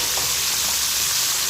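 Chicken frying in hot oil for homemade KFC, a dense continuous hiss and crackle of sizzling, close and steady with no talking.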